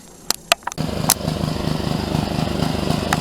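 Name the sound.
garden tiller engine running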